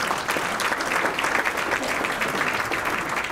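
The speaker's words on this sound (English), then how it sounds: "another round of applause for Deb and her praise band." Church congregation applause for a contemporary worship praise band, a steady dense clapping from a roomful of people throughout.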